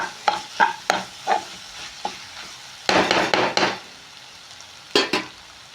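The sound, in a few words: tomatoes and onions frying in chili masala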